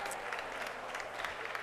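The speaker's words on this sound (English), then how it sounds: "Vince Munoz gets it and the crowd loves it." A crowd at a men's doubles racquetball match at the US Open applauds steadily, with dense clapping that fills the space and some voices mixed in.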